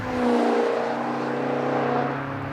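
A 2013 Maserati GranTurismo Sport engine hums at a steady, loud cruising drone with a slight swell near the start, continuous and close with no talk.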